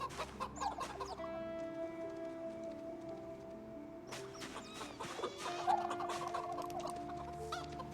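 Chickens cluck in the video game Project Zomboid, a close run of clucks over a steady background hum, with a louder burst of calls partway through.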